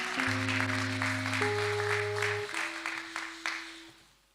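A church congregation applauds to acclaim the Lord, with steady clapping under sustained organ or keyboard chords that fade out toward the end.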